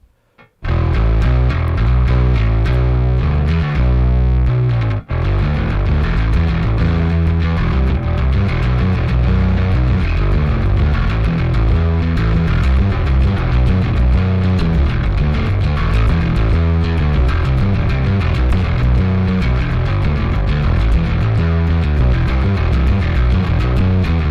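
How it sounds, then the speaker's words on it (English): An electric bass played through a Darkglass Advanced Machine overdrive pedal, loud gritty driven notes starting abruptly and continuing in a dense, sustained riff with a brief break near the start. "So here's the first overdrive setting."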